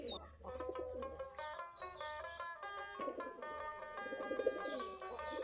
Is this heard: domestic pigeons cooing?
yes